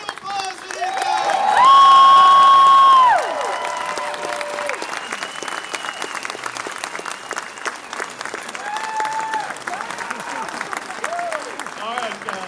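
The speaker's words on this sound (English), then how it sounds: "one more round of applause for these guys" Cinema audience at a Dawn of the Dead panel Q&A at the Alamo Drafthouse claps and cheers, with loud whoops and shouts over sustained applause.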